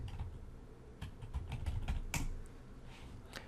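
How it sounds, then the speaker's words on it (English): Light typing on a computer keyboard entering a search term, a short irregular run of soft, close key clicks with no talk. "Let's just type in teamwork and see if that works."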